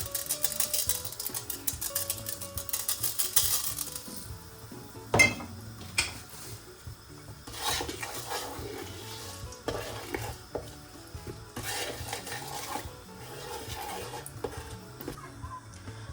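Meat frying in hot oil for Senegalese mafé, a steady close sizzle with a spoon stirring and scraping against the pot, occasional clinks of metal, no voices.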